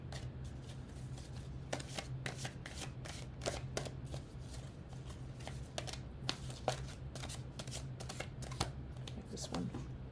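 Wisdom of the Oracles oracle cards are shuffled in a steady run of crisp, papery riffles and taps, fairly quiet and close, while a person talks over them.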